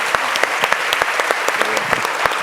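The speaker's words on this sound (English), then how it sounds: "A round of applause." Applause from an audience at a live debate event on marketing and sustainability, a steady wash of many hands clapping with sharp individual claps popping out, close and fairly loud, with no talking over it.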